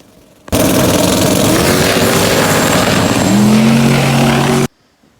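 Drag car with a stock-bottom turbocharged 5.3 LS and 107mm turbo making a pass at a no-prep race: a loud, steady engine roar for about four seconds, with a rising whine near the end, then an abrupt stop.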